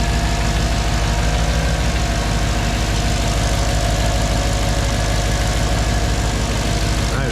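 C55 engine fitted with intake spacers idling steadily, a loud, close, continuous low rumble with an even rhythmic throb and no speech.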